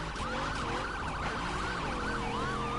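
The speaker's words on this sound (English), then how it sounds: "there's the ambulance. Oh, black ambulance." An ambulance siren in the driving game The Crew 2 wails in repeating rising and falling sweeps, loud and continuous over engine noise.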